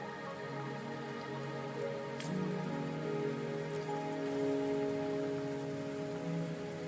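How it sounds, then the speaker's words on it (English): Steady video game rain falls in a continuous dense patter with a few brief drip ticks, mixed with sustained soft musical tones throughout. "Are you trapped here by the rain?"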